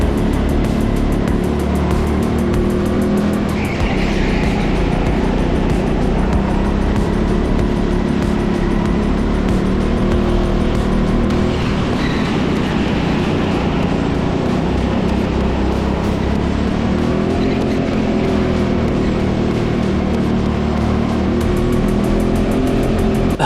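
A rental racing kart at the TeamSport Leicester indoor track, racing in the BIKC Middleweight regional final, drones loudly and continuously up close, its pitch rising and falling as it is pushed through the laps.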